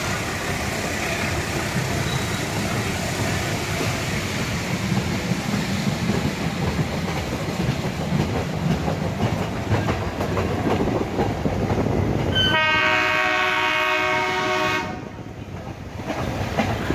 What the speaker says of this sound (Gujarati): જૂનાગઢ જંકશનથી મીટર ગેજની સવારી ઉપડી છે.